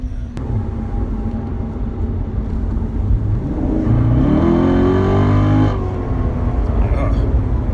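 A Chevrolet C7 Corvette accelerates hard, its engine note climbing steeply in pitch and growing louder midway before easing off, heard from inside the car over a low road rumble.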